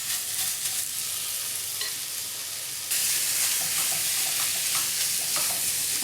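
Sausage sizzling in a pan for molotes, a continuous, loud frying hiss with crackles that grows fuller halfway through.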